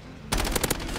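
RAM-7 assault rifle in a first-person shooter game fires a sustained burst of rapid automatic shots, loud and close, starting abruptly after a brief quiet moment.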